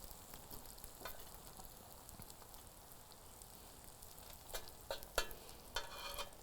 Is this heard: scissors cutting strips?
no